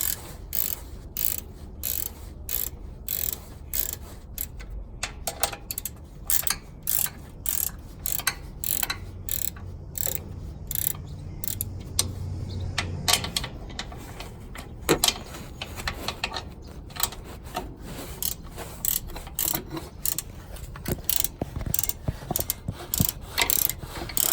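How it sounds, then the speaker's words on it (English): Rapid, close ratcheting clicks come in repeated bursts as a wrench works a bolt loose on a Toyota Tacoma during a lift kit install, a dry mechanical rattle with no talk. "You can use an adjustable wrench or whatever you can get in there to kind of just jam it out"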